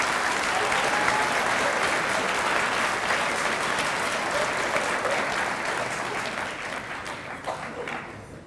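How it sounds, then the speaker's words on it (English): Sustained audience applause at a school Air Force convocation, a dense steady wash of clapping from a large crowd that tapers off slightly toward the end. "If we can give him a round of applause,"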